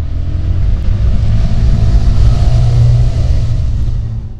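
Sinnis SM-R 125cc motorcycle, a 2022 budget supermoto with 14.8 horsepower, accelerating in town traffic: a loud, steady engine rumble with a slight rising drone, heard close up throughout.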